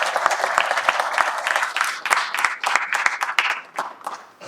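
An audience at a religious discourse breaks into brisk clapping, a dense patter with sharp individual claps standing out, fading toward the end.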